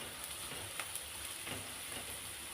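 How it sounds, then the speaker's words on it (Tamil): Chopped onions and capsicum sauté in a pan for an egg stir-fry, giving a faint, steady sizzle with a few soft ticks and pops. It sounds quiet and continuous, with no talking. "இப்போ நல்லா வதங்கிருச்சு வெங்காயம் குடமிளகாலாம்."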